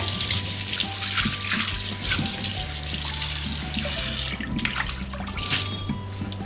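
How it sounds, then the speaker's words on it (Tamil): Water running from a tap as a clay pot used for tomato pickle is washed clean with ash, a steady splashing stream with irregular gurgles and light knocks of the pot, fairly close and alone. "இந்த மண் பாத்திரத்தை நல்லா சுத்தமாக சாம்பல் வச்சு கழுவியாச்சு"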